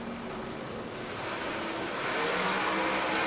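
Pro Mod drag race cars revving at the start line of a World Series of Pro Mod elimination round, a distant, muffled engine roar that builds steadily in loudness toward the end, with no voices.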